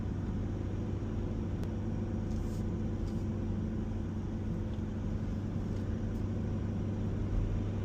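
A car stuck in first gear holds at about 3,000 RPM, a steady low engine drone with road rumble heard from inside the cabin, even and unbroken throughout.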